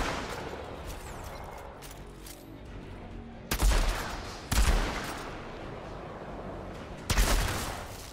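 Sniper rifle shots in the video game Outriders: three loud, sharp reports spaced a second or more apart, punching through a steady wash of in-game background noise with no talk.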